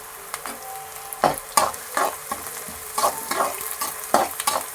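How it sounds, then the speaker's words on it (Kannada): Curry leaves sizzling and spattering in hot oil with ginger for vegetable upma, as a spoon stirs them. Short crackling bursts come up repeatedly over a steady fry, close and clear. "ಈಗ ಸ್ವಲ್ಪ ಕರಿಬೇವನ್ನು ಆ್ಯಡ್ ಮಾಡೋಣ."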